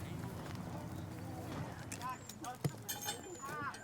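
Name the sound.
horses' hooves clip-clopping on the road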